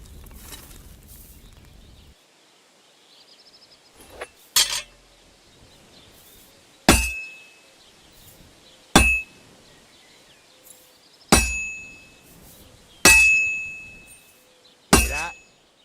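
A hammer striking hot metal on an anvil at a medieval forge in Kingdom Come Deliverance 2, several sharp ringing clangs spaced a second or two apart, each fading, with lighter taps between them.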